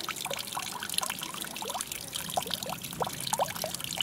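A thin summer trickle from the Sonia waterfall beside a trail totem, heard close as a steady babbling flow with bright gurgles and drips, no voices.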